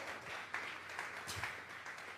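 Church congregation clapping in applause during a Sunday service, a steady dense patter of many hands at moderate distance, continuing evenly throughout without voices.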